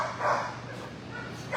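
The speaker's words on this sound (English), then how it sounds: "Little black dog named Lori, Shepherd mix." A small black shepherd mix dog at a shelter barks a few times in short yelping bursts, moderately near, with kennel noise in the background.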